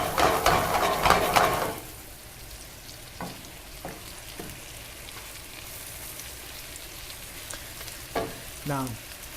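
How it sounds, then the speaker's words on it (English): Spinach goes into a saucepan of frying onions with a burst of crackling sizzle at first, then settles to a quiet, steady low frying hiss with a few soft stirring taps near the end. "Now we're adding our spinach."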